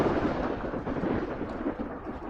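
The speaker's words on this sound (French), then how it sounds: "J'ai eu le droit à une petite tempête." A thunderstorm in the video game Ark Survival Ascended, Scorched Earth map, comes through as a continuous low rumble of thunder with a rain-like wash, steady and fairly loud throughout, with no speech.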